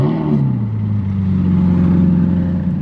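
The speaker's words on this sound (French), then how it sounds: "Et on se retrouve derrière une F8 coupée. Ah, elle va démarrer là-bas." Ferrari F8 coupe starting up in a square near a casino, a steady low engine drone with a pitch drop right after ignition, then settling into a loud, close idle with a slight rise.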